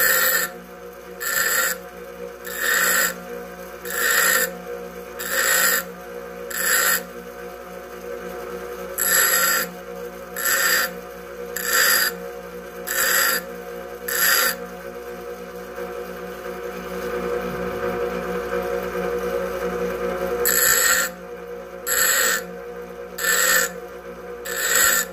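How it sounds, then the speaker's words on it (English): A steel drill bit is pressed against a spinning grinding wheel during sharpening, producing about a dozen short, rasping bursts in steady groups, with brief pauses between passes and a pause mid-sequence. "And the way you do that, let me grind this a little bit more."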